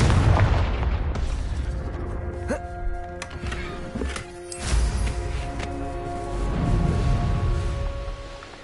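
A Confringo blasting curse sets off a series of booming explosions with deep rumbling blasts and sharp cracks spread over several seconds, loud and reverberant.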